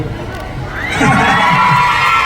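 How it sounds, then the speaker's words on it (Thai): Crowd cheering and children shouting at a live on-stage talk and show event at Siam Center in Bangkok, swelling loud and steady after a quieter opening with voices mixed into the roar. "เชียร์สิครับ"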